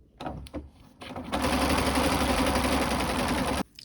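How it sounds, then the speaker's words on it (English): A sewing machine set to its longest straight stitch starts with a few short bursts, then runs steadily at a fast, even whir for a couple of seconds before stopping abruptly. "set your machine to the longest stitch it will do and just sew a straight line"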